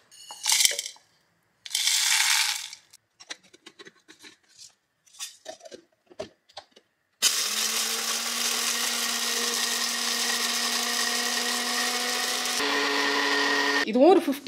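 After some soft handling clicks and rustles, an electric mixer grinder whirs loudly and steadily for about five seconds, grinding spice masala to powder, then cuts off with a brief rattle.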